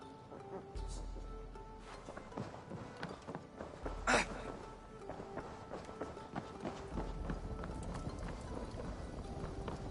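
Horse hooves clatter in a quick, continuous rhythm with creaks and rumbles in the video game Assassin's Creed Valhalla, as horses trot and gallop nearby, a faint voice briefly heard.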